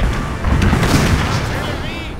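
Artillery fires canister shot in the Napoleon: Total War game, Austrian campaign, with heavy booms and crackling blasts layered over continuous battlefield din, loud and close.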